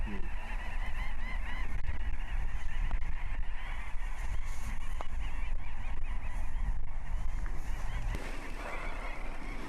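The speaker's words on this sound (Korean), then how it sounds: "The lovely sound of birds." Geese honk repeatedly from a distance in Svalbard, a loose chorus of overlapping calls over a steady outdoor hush.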